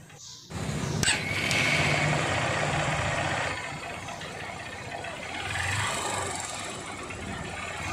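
A Honda Unicorn motorcycle engine with a pickup problem, idling steadily close by and revving lightly once, a sustained mid-pitched engine drone with a brief rise near the start, no talking.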